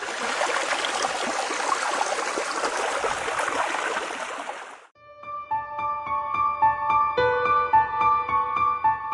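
A fast-flowing mountain stream near a village in an animated folk-tale cartoon rushes loudly and evenly for about five seconds, then cuts abruptly to music.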